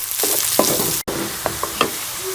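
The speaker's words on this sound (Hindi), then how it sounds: "प्याज को जो है वो हल्का सा ब्राउन कर लेंगे" Onions fry in hot ghee in a kadhai, giving a steady close sizzle with a few soft stirring clinks and scrapes.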